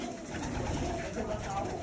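Pigeons being fed grain coo steadily and close by, a soft, continuous layered burble with no pause.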